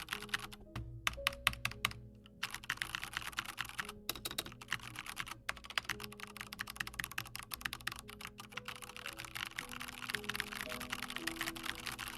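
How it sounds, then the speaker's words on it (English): Rapid, uneven mashing on a computer keyboard, dense clattering keystrokes running continuously and close up for about twelve seconds, with a few brief pauses near the start. "No, it was me mashing on the keyboard."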